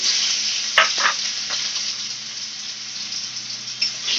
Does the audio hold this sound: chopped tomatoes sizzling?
yes